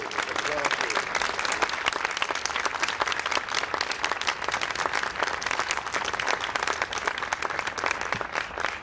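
Steady, dense applause from an audience at a White House award ceremony, continuous loud clapping filling the room without a break.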